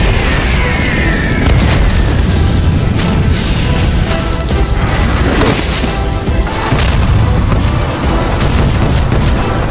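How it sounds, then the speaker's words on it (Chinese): Artillery fire and explosions in a drama: continuous heavy booms and crashing blasts that rumble one over another without pause, loud and close, with no voices. "外面的炮火越来越近了"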